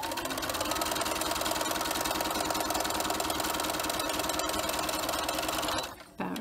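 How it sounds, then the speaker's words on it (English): A sewing machine stitches a line down a reversible fabric mask, a fast steady mechanical whir and rapid needle patter running close for about six seconds before stopping. "we're going to sew all the way down this line"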